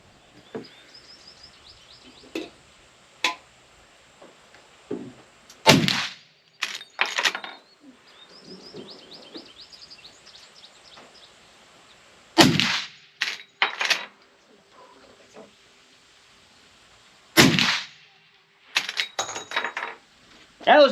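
Henry Model X lever-action rifle in .45-70 firing 325 grain rounds outdoors: three sharp loud shots spaced several seconds apart, each followed by metallic clacks of the lever cycling, with birdsong faint in the background.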